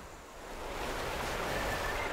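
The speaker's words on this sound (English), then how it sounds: "And wonder what's atop this waterfall." A video game waterfall in Pokémon Violet gives off a soft, steady rushing wash of water, swelling slightly early on, then holding an even hiss with no talk.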